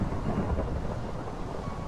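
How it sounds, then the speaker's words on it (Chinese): Thunder rolls during a storm in the video game Minecraft, a low, continuous rumble that sounds distant and steady over two seconds. "不要再打雷"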